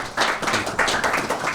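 A short burst of applause, with claps pattering in uneven waves from a small group at the close of a Pelham village mayor's appearance.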